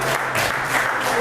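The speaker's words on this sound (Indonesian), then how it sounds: "beri tepuk tangan untuk kelompok 1." A classroom group in an Indonesian lesson gets a burst of applause from classmates, steady, close clapping that fills the whole brief moment.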